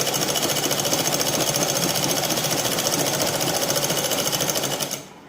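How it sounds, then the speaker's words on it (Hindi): A sewing machine runs a steady, rapid stitching rhattle along the middle seam of an A-line cut cancan petticoat, close and continuous for about five seconds before stopping abruptly. "अब पेटीकोट के बीच की सिलाई लगा देंगे।"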